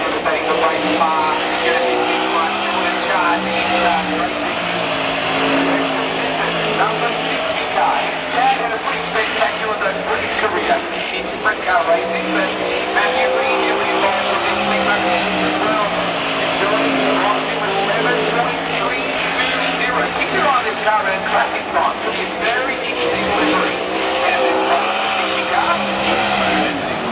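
Race car time trialling at Warrnambool roars past continuously, a loud, steady engine drone with shifting pitch and occasional tire noise, an announcer talking over it throughout.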